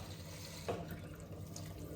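Boiled water from a kettle pours into a soup pot for a beef and vegetable soup, a steady, quiet rush of liquid with a brief splashy surge partway through, no voices.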